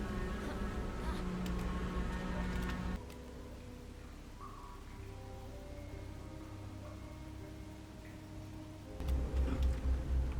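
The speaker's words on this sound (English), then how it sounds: "I went way overkill on the bees up here" Insect-like bees buzz in the Dungeon Defenders 2 video game, a thin droning hum blended with game music and effects, fairly quiet throughout and swelling again near the end.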